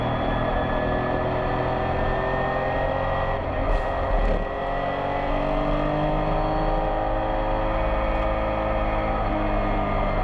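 Porsche race car crossing the finish line at the Rennsport Reunion, a loud, steady engine roar that swells briefly as the car passes close by, with no talking.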